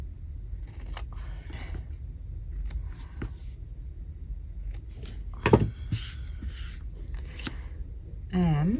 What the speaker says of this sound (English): So I'm going to cut this one into a tag shape.